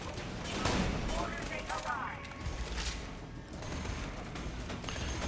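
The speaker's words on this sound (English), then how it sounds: "Get some use out of the shotgun ammo" Shotgun fire in a video game, several loud blasts and mechanical clatter over a noisy battle mix, with a voice speaking over it.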